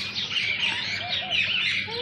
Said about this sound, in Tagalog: Yung mga iba't ibang klase ng ibon.